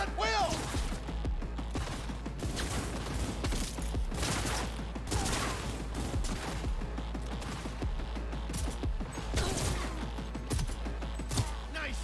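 Gunfire from a Cyberpunk 2077 heist shootout, dense overlapping shots and impacts in continuous bursts with mechanical clatter, loud and sustained with voices mixed in underneath.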